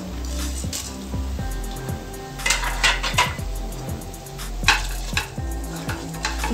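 Cumin and whole spices go into a hot pan for veg biryani, with clattering and scraping of a utensil against the pan and a light crackle in brief clustered bursts, close up, with no talking.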